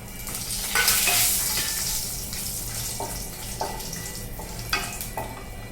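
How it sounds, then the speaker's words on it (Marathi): Whole spices and cashews fry in hot oil in a pan for veg pulao, making a steady close sizzle with occasional stirring clinks and scrapes, with no one talking. "जरा फ्राय करते. खडे मसाले घेतले पाहू शकता."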